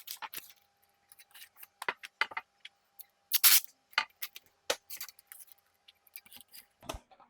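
Short, sharp tearing and crinkling bursts of tape being applied to a screen printing screen, close and irregular, with gaps of near silence between them.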